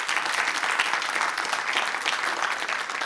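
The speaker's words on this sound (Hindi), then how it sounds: "तालियों के साथ इनका स्वागत कीजिए" Steady, dense audience applause on a talk-show stage greets a folk singer, a continuous wash of many clapping hands filling the room with no voices over it.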